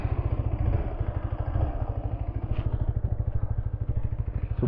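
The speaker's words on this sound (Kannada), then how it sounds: "ಮುಂಚೆ ಒಂದ್ಸಲಿ ನಿಮಗೆ ಇಂಜಿನ್ ಸೌಂಡ್ ಕೇಳಿಸ್ಬಿಡ್ತೀನಿ" A 150cc motorcycle engine idles close by with a steady, fast, even thumping beat and a light mechanical clatter above it.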